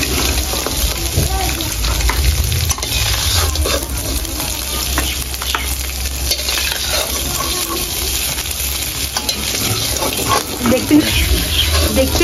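Crabs fry in hot oil in a pan, giving a loud, steady sizzle with stirring scrapes throughout, and a voice talks over it.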